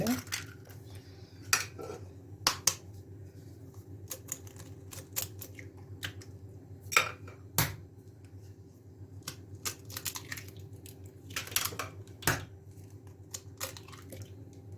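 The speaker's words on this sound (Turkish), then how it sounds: "Öncelikle Yumurtalarımı kırayım." Eggs being cracked into a bowl for an orange cake, a string of sharp light taps and clicks against the rim over a low steady hum, fairly faint with quiet gaps between knocks.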